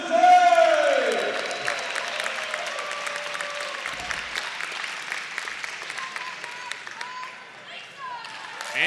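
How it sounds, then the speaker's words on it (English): An audience of combat sport fans applauds and cheers for the fighters at a duels event, a loud burst of clapping and whoops up front that settles into steady, lively clapping and crowd noise. "Let's have a round of applause for all of our fighters today!"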